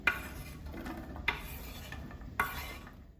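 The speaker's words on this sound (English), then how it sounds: "Now that my onions have been frying for a little bit and they're a little translucent" Onions fry in vegetable oil in a pot while a utensil stirs them, giving a soft continuous sizzle broken by three sharp scraping clacks against the pot. The sound is close and fairly quiet, with no talking.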